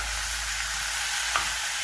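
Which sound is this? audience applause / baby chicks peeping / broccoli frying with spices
broccoli frying with spices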